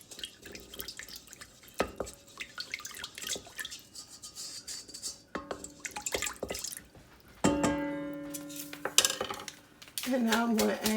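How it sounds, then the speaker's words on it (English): A spoon stirring sugar into warm water in a bowl for dinner-roll yeast, with scattered clinks and scrapes against the dish, small drips, and a few brighter knocks near the end, all fairly quiet. "I'm going to add sugar to the warm water, and I'm just going to stir it around until it starts dissolving."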